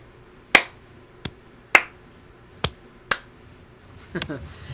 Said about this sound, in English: It's slow clap